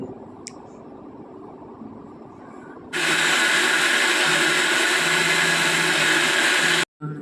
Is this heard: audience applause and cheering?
no